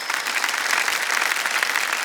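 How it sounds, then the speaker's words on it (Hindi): Studio audience applause on a Hindi TV quiz show set, a steady, dense wash of clapping that stays loud and even throughout, with no voices over it. "तालियां बज जाए इनके लिए एक बार फिर।"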